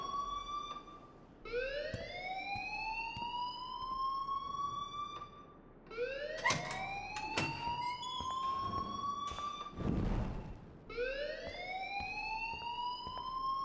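A school fire alarm in the video game Life Is Strange sounds as loud rising whoops that repeat in a steady cycle, with a few clattering knocks and a brief thump in the middle.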